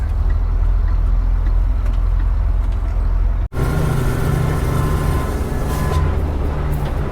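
An expedition truck rolls along the road, a steady low engine and tyre rumble heard from inside the cab, with an abrupt cut midway after which the drive noise continues brighter and louder.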